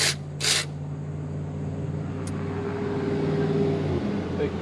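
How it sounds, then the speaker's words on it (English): A big truck rolls past outside, a steady low engine drone and tire roar holding throughout and easing off near the end, with a couple of brief hissy bursts up front. "Big truck."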